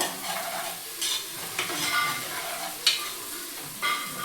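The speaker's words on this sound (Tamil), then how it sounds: "வெங்காயம் நல்லா வதங்கட்டும்." Chopped onions sautéing in a pan for chicken biryani, a steady soft sizzle broken by a few sharp scrapes and stirs of the spoon, close and moderately loud with no talking.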